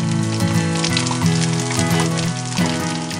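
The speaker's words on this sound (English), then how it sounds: "I'm just going to quickly brown the pork loin on all sides to keep the juices locked in" Pork loin browning in olive oil in a frying pan, a loud, steady sizzle with crackling pops and spatters throughout, close up.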